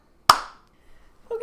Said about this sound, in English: Sync clap